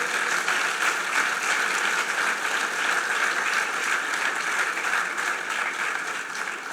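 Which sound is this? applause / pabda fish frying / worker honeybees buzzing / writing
applause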